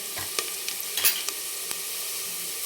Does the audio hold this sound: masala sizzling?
yes